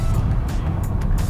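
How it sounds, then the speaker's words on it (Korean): Exhaust note of a Renault Captur 1.3-liter gasoline turbo SUV in sport mode on an open road, a loud, steady low engine drone heard from inside while driving, with no talk. "엔진의 배기음도 굉장히 좋고,"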